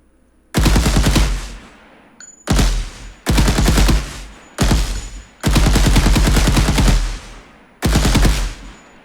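Bursts of automatic gunfire from an Unreal Engine third-person shooter, six loud sustained volleys with short gaps between them and no talking.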